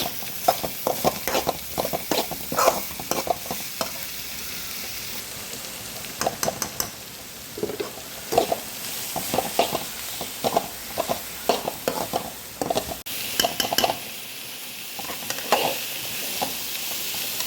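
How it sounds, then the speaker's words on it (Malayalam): Chopped banana flower tumbles into a hot pan with shallots and is stirred, giving bursts of scraping and clattering against a steady sizzle, with irregular spoon strokes across the whole stretch and no talking. "ഇനി ഇതിലേക്ക് ഇതേ അരിഞ്ഞു വെച്ചിരിക്കുന്നത് ഇട്ടിളക്കാം"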